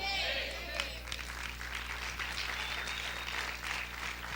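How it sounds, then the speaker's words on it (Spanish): Applause from a church congregation during a Spanish-language service, a steady wash of many hands clapping at moderate distance, continuous for the whole stretch over a low hum. "Si ese aplauso es para el Señor"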